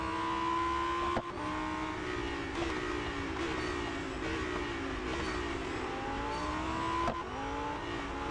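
A Lamborghini Huracán STO race car engine drones and revs in the Real Racing 3 video game, holding a loud continuous tone with brief dips at gear shifts during an endurance race.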